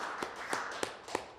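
At an annual general meeting, four sharp, evenly spaced claps stand out over a faint hum of room noise. They are fairly quiet and sound like a few people clapping rather than a full round of applause.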